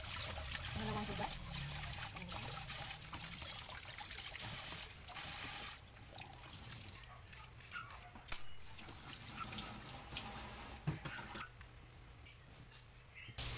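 Okra, long chilies, onion and string beans are washed twice under running water in a home kitchen, giving a steady trickle and splash that continues close by throughout.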